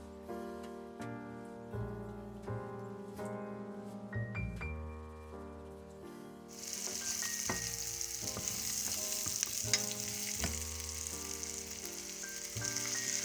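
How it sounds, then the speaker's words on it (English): Onion and garlic frying in a pan for a goat stew, with a loud continuous sizzle that starts partway through and stays close and steady, under tonal background music. "I'm just going to fry and add in my onion and garlic"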